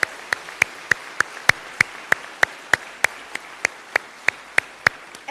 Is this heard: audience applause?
yes